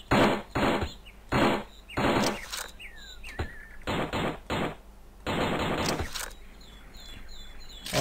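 An Uzi submachine gun fires in the shooting game Storm The House, in several loud, rapid bursts separated by short pauses, with faint chirping effects between the volleys.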